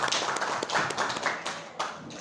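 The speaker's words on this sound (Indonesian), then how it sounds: "Beri tepuk tangan untuk kita semua dulu" An audience of teachers and staff at a school presentation claps together, a dense, loud burst of many hands, close and sustained, tapering slightly near the end.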